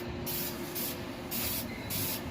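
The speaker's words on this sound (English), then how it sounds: "I'm spraying everything, trying not to miss nothing." Spray paint hissing steadily from an aerosol can onto the engine headers of a red 1983 Oldsmobile Cutlass, broken into several short bursts with brief pauses, close and fairly loud.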